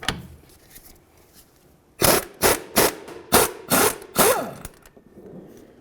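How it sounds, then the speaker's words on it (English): Ratcheting an 18mm socket to loosen the sway bar link nut on a Dodge Journey: six loud, close, evenly spaced ratchet bursts with metallic clicking, following a quieter stretch. "Now let's just use an 18mm socket to remove our nut."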